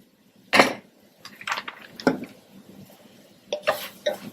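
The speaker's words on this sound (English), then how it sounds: "Give that a nice stir" A utensil scrapes and knocks against a pan while spiced meat and vegetables are stirred for Cajun red beans, a few sharp clinks and scrapes in an irregular rhythm, close and moderately loud.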